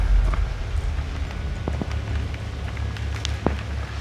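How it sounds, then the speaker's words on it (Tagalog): Steady heavy rain hisses continuously at an overnight motorcycle campsite with a low rumble beneath, broken by a few sharp taps and knocks. "Malakas pa naman ang ulan."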